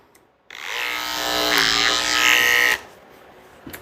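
Electric dog grooming clippers with a detachable blade switched on for about two seconds, a loud, close, steady motor buzz that cuts off abruptly, with no talking.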